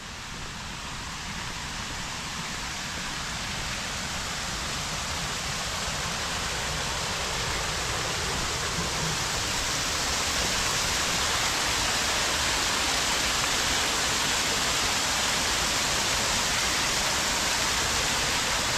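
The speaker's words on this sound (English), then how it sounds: "We'll get a different view of the waterfall over here." Waterfall on the Burnt Sawmill Trail in the Big River Management Area: a continuous broadband roar of falling water, steady and full, growing slightly louder over time with no talk.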